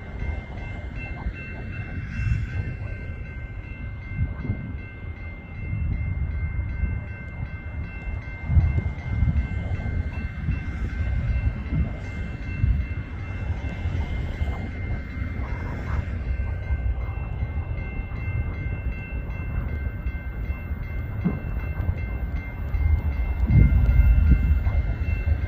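A westbound local freight train rumbles past up close, a loud continuous low roar of wheels and cars that holds steady for the whole stretch, with a faint steady tone above it.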